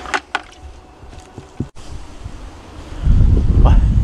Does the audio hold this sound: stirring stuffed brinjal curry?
no